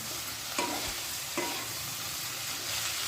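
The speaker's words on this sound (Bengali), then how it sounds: "সেগুলো মশলার মধ্যে দিয়ে দিচ্ছি দিয়ে একদম ভালোভাবে মশলার সাথে কুঁদ্রিগুলোকে মিশিয়ে নিচ্ছি" Kudri, or ivy gourd, stirred and fried in spice paste, giving a quiet continuous sizzle with two short scraping strokes of a spoon against the pan.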